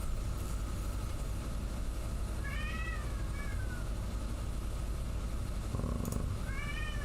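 A cat meows twice, a pair of rising-falling cries a few seconds apart, heard over a steady loud hum of background noise.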